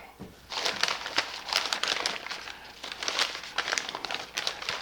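Stiff butcher paper wrapped around a smoked Angus beef brisket flat crinkles and rustles as it is peeled open, a close, busy run of crisp crackles and crumples with no talk.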